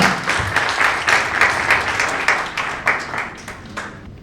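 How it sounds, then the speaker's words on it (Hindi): Audience applause welcomes the owner of the Young Stars Cricket League at a player auction event, steady dense clapping from a crowd with a few louder individual claps, tapering off near the end. "So big round of applause everyone."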